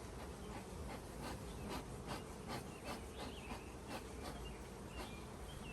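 A steady, dense hum of many honeybees buzzing close by inside a weak, sparsely populated hive, with faint rubbing and scraping sounds underneath.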